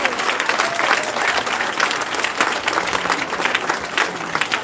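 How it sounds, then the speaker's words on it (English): An audience at a 2023 school graduation ceremony gives a sustained round of applause, dense overlapping clapping at a steady level through the whole stretch, with faint voices mixed in. "give Dr. Taylor a resounding round of applause"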